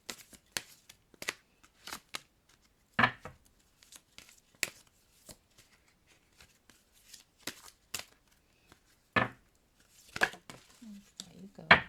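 Tarot cards being shuffled and handled for a reading, giving scattered quick riffling and snapping bursts with quiet gaps between them, close and fairly soft, with no talking.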